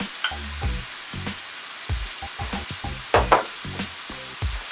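Celery and carrot fry in a pan with onions and garlic, a steady low sizzle broken by a run of repeated scraping stirs at a close, moderate level.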